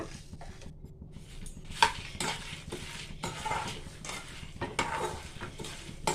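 Red chillies and coriander seeds being dry-fried in a pan, quiet rattling and scraping as they are stirred with a spoon, with occasional metallic clinks and no talk.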